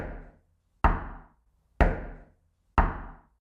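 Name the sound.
five knocks on a bedroom door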